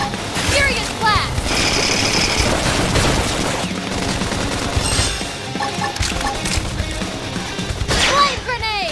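Dense, chaotic combat in Xenoblade Chronicles X: Definitive Edition, with rapid bursts of gunfire, booms and crashes, overlapped by music-like tones and voice chatter throughout.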